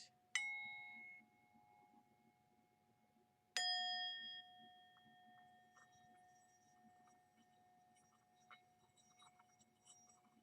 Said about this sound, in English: I'm breaking out the bowls and the chimes